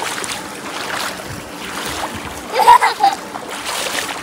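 Splashing from people wading through shallow water at Love Lake in Dubai, a short burst of sloshing steps in the middle over a steady outdoor wash of wind and water.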